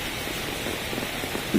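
Heavy rain pours steadily onto a rooftop terrace hydroponic garden with water spinach, a dense continuous hiss close by with no talk, a brief louder patter near the end.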